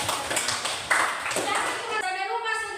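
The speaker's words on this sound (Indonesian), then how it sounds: "aplaus dulu" Audience applause fills a lecture hall at an Islamic institute in Gorontalo: a steady wash of clapping for about two seconds, then a voice takes over as it fades.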